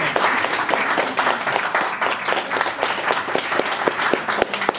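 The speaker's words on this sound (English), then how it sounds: "And a quick round of applause for Odette and Andrew for coming." Quick round of audience applause at a retirement home, dense, close hand clapping that runs steadily for several seconds with crisp individual claps standing out.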